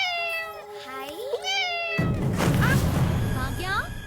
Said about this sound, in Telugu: ఇంకొక పిల్లి.